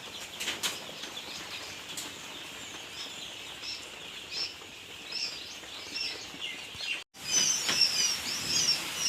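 Quail chicks are set loose into a farm pen amid a soft, continuous rustle of fluttering wings and faint high chirps, with a brief gap followed by a livelier burst of flapping and cheeping.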